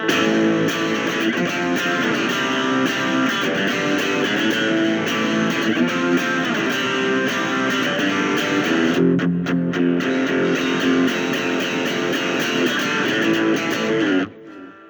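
Loud distorted electric guitar chugging through the power chords of a song with a driving rhythm, continuous for most of the passage before cutting off abruptly at the end.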